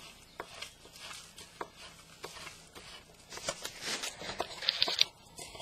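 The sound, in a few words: chopping vegetable leaves for chicken soup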